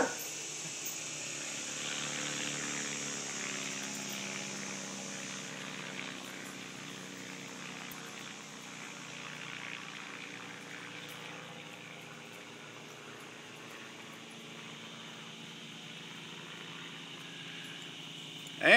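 At the Crab Shack air show, a propeller airplane flies stunt loops, its engine a distant, steady drone that slowly shifts in pitch for almost twenty seconds.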